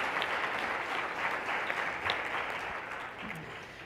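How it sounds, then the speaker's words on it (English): Audience applause after a talk on animal sanctuaries, a continuous wash of many hands clapping at moderate volume, steady throughout. "maybe give them a round of applause"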